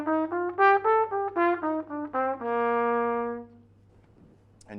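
A major scale runs up and down in quick accented triplet groups, the first and third notes pushed for a swinging jazz feel, ending on a sustained note that fades out; solo instrument, no talking.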